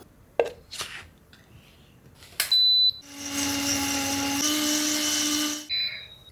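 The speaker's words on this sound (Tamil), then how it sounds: "பீப் சவுண்ட் வந்துருச்சு." A sharp electronic beep sounds from a home milk-making appliance, followed by a loud, steady mechanical whir, and then a second short beep near the end.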